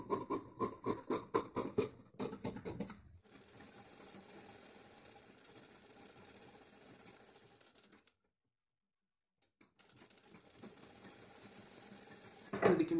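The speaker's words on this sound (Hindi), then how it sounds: "देखिए, हमने सिलाई लगा दी है" Sewing machine stitching a sleeve onto cloth, a steady mechanical whirr with short bursts at the start, a long even run, a brief pause, then stitching resumes.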